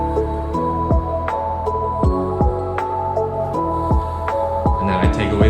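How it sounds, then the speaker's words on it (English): A lofi beat at its drop, layering synth elements and bells over a steady deep bass and a punchy kick pattern with sharp downward-sweeping hits roughly every second, loud and full with no talking. "I introduce the synth elements, and then I add the bells again"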